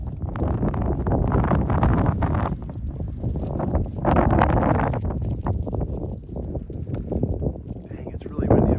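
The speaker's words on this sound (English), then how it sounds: "it's really windy up here" Strong wind at Kilauea volcano buffets the microphone in loud, rumbling gusts that rise and ease throughout, with faint voices underneath.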